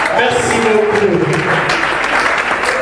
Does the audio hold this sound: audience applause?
yes